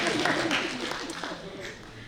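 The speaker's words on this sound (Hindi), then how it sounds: "तालियां घर तक पहुंचनी चाहिए" Audience applause at a poetry recital (kavi sammelan) in New Delhi: dense, steady clapping from a crowd that fades slightly toward the end, with talk in the background.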